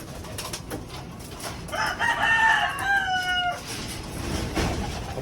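Pigeons coo and call in an enclosed loft, with a rooster-like crow in the middle over a rustling, noisy background.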